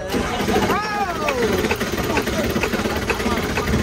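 A 1997 Ford F250 diesel engine running on plastic-derived fuel cranks and catches, turning into a loud, steady clattering idle, while people talk excitedly over the engine.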